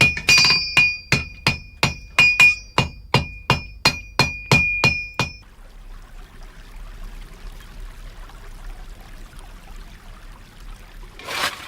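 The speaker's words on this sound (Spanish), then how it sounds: "el impecable sonido del martillo sobre el yunque" About fourteen sharp, ringing metal strikes of a hammer on an anvil in a traditional forge, in a steady rhythm, then a quiet stretch of low background rumble.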